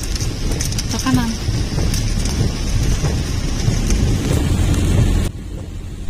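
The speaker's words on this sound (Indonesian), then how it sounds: "karena ini hujan" Steady rain falls at Kawah Putih crater in Bandung, a continuous hiss of drops with murmured voices nearby, until the sound thins and drops away near the end.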